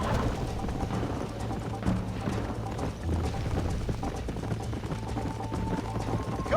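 Horse hooves clip-clop at a steady walking rhythm in Red Dead Redemption on Xbox One, fairly quiet and close, over a low hum and soft background tones.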